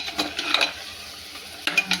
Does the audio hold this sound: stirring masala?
yes